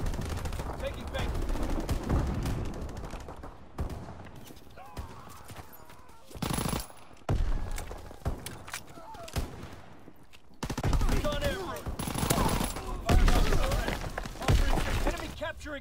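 Machine gun fire in a WWII video game, with repeated loud bursts and crackling volleys that break off and start again, heard under in-game radio callouts.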